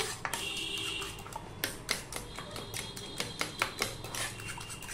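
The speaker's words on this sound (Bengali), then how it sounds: "কাঁটা চামচের সাহায্যে ভালো করে ফেটিয়ে নিলাম।" A fork clicks rapidly against a bowl, beating eggs with onion in quick irregular taps and scrapes, close and fairly quiet with no talking.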